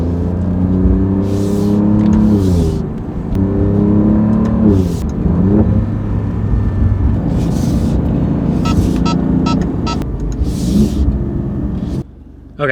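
An Alfa Romeo Giulia Quadrifoglio engine revs and pulls away, loud and close from inside, with gear changes rising and falling throughout.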